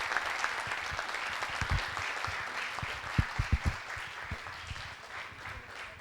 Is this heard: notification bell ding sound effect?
no